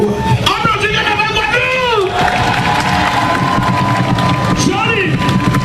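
A Mardi Gras parade crowd in Basse-Terre, 2020, cheers and shouts in a dense, loud hubbub with whoops and voices rising over it. A person talks throughout.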